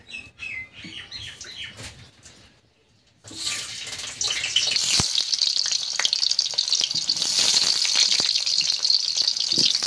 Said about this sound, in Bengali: এবার কিন্তু কড়াইতে তেল দিয়ে দিয়েছি, তেলও গরম হয়ে গিয়েছে। এবার আলুগুলো আস্তে আস্তে দিয়ে ভেজে নেব।